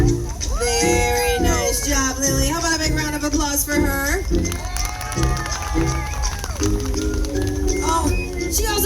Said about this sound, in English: How about a big round of applause for her?